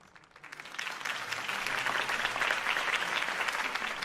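Dense crowd applause in a Batman video game swells within the first half second and holds steady, a broad wash of many hands clapping at once.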